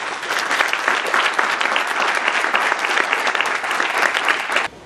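Audience applause at a special event honoring girls in STEM, a loud, dense burst of clapping from a large indoor crowd that holds steady for several seconds before cutting off sharply.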